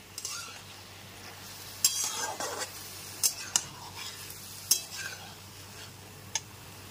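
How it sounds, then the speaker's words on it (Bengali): Ridge gourd pieces fry over a high gas flame, a steady faint sizzle broken by several sharp clinks and scrapes of a utensil stirring in the pan, with no talk. "গ্যাসের ফ্লেমটা হাইতে করে দিয়ে ঝিঙেগুলো ভেজে নিতে হবে"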